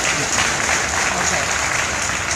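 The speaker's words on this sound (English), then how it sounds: "Give her a round of applause" A large audience at a National Urban League gathering applauds loudly in a dense, continuous roar of clapping that fills the short stretch evenly.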